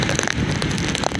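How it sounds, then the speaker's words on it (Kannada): Heavy rain pours onto a road along BM Road, a dense steady hiss of drops with scattered louder splashes throughout, no voices. "ಮಳೆ ಆರ್ಭಟ ಜೋರು"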